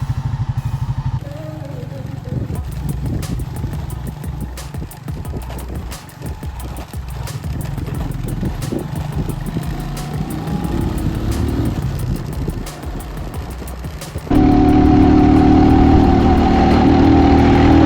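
A motorcycle engine runs steadily under a rough, bumpy off-road ride toward a waterfall in Davao Oriental, Philippines, revving and idling in turns, with voices at times; near the end the engine noise grows louder and harsher.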